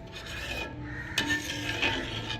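A thick black urad dal kali is stirred in a pot, a steady scraping and rubbing of spoon against the pot with a couple of sharper scrapes, close and clear with no talking.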